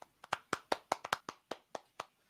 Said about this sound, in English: All right, we got a few claps there.